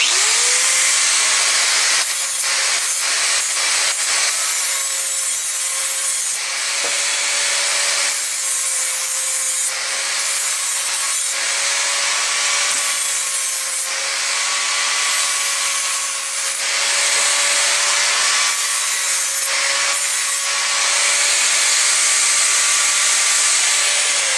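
Burrs are sanded or filed off the freshly cut edge of a steel car body panel, a dogleg patch for a Ford Fairlane, giving a steady, loud, continuous abrasive rubbing with a faint whine, running alone the whole time.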